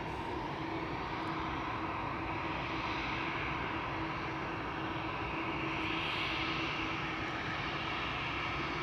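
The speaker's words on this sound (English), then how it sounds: "this is Austrian flight 312, which will be returning to Vienna, capital of Austria. It's an A320." An Austrian Airlines Airbus A320, registration OE-LXB and about 17 years old, departs Amsterdam Schiphol bound for Vienna. Its engines give a loud, steady roar that holds throughout, with no voices.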